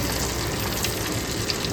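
Whole dried red chillies, cumin seeds and whole garam masala crackle in hot oil left from frying prawns, a dense, continuous close sizzle with no pauses.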